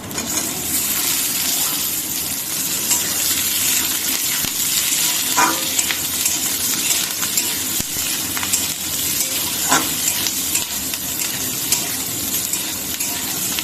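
Peanuts and boiled potato stirred in a hot frying pan for a sago recipe make a continuous loud sizzle, with occasional scraping knocks of the spatula against the pan.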